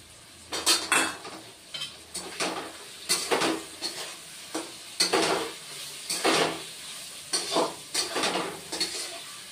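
Ginger paste going into a sautéed masala in a pan while cooking chana dal with drumsticks, repeated metal utensil scrapes and clanks against the pan over a soft sizzle, in irregular bursts.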